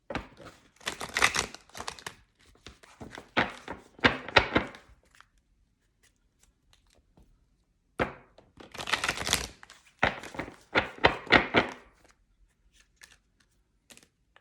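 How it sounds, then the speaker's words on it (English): A deck of large oracle cards is shuffled by hand in two separate bursts of brisk riffling and slapping, close and crisp, with a quiet pause between them. "So I'm going to shuffle 8 times."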